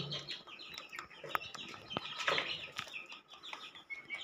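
Chickens and quail cluck and chirp close by, with brief wing flaps and rustling in between.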